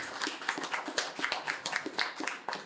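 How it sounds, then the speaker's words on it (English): A small conference audience of veterans applauds in a hot room, quiet and moderately distant, with individual hand claps landing in a loose, fairly even rhythm throughout. "You can applaud for that"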